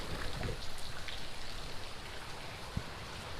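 Rain patters steadily onto a clear-water creek, a soft, even hiss of drops with a faint flowing-water wash beneath and one small knock near the end, heard from close by with no talking.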